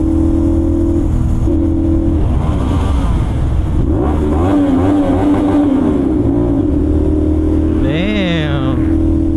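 A CFMoto 450NK motorcycle fitted with a slip-on exhaust revs loudly inside a tunnel, its engine rising and falling through several throttle blips with booming echoes, close and dominant while someone talks briefly.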